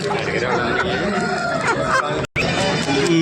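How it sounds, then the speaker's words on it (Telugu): Native country chickens cluck and squawk at a busy festival poultry market in J Mamidada, their calls mixed with constant crowd chatter and nearby voices, dense and continuous with a brief dropout. "ఒరిజినల్ ఇది ఒరిజినల్ నాటుకోళ్ళు"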